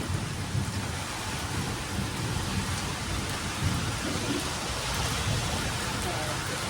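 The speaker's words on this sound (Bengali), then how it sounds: "কি জোর বৃষ্টি নামলো অবশেষে।" Heavy rain pours in a steady, loud roar with low thunder rumbling underneath, continuous and close throughout.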